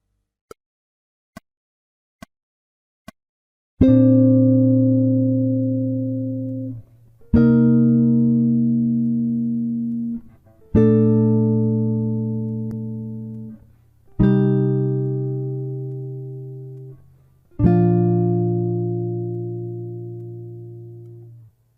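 Four count-in clicks, then five sustained jazz guitar chords playing a guide tone line, each struck and left to ring and fade before the next.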